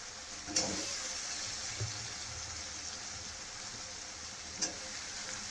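Potatoes and brinjal tossed into oily tomato masala for a spicy village-style Maharashtrian curry give off a soft, steady sizzle, with a couple of sharp clinks of a spoon against the pan and no talking.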